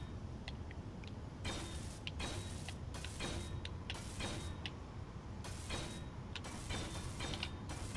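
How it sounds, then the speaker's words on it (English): Welding tool firing in the Space Engineers game, repeated harsh crackling bursts of welder noise in an irregular on-off rhythm over a low mechanical hum. "Weld, little plushie, weld."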